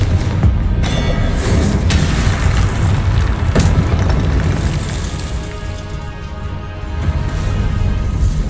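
Confringo spell blasts in Hogwarts Legacy, a run of loud booming explosions and bursts over a dense roar of combat, with sharp impacts near the start and around the middle.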